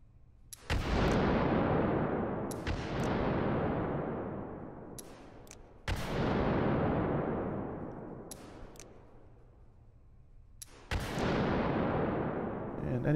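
Suppressed shots from a Nagant M1895 revolver in a VR video game: four sharp reports at irregular intervals, each trailing off in a long fading tail, with faint clicks and handling between them.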